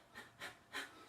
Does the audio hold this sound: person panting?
yes